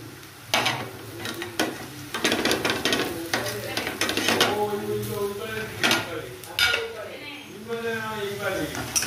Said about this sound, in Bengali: একটু আদা বাটা দিয়ে দিচ্ছি, আদা।